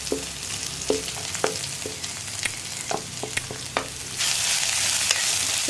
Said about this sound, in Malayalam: എല്ലാം ചേർത്തിട്ട് നന്നായിട്ടൊന്ന് ഇളക്കുക.